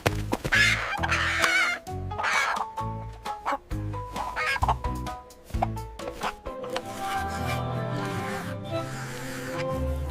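A farmyard chicken, voiced in a soft, calm bedtime cartoon, clucks in short repeated bursts amid sharp chopping-like clicks and a gentle musical backing, with no speech.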